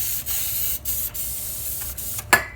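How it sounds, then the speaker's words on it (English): Non-stick cooking spray hisses onto plastic wrap stretched over a bowl of bread dough. Several short, sharp aerosol bursts sound close and fairly loud, separated by brief pauses, and no one speaks. "this just gives us a place to spray the top with some no stick spray so it doesn't stick too bad to the bread"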